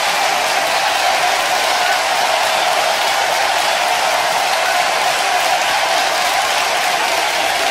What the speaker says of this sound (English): crowd giving this man a standing ovation here at the Staples Center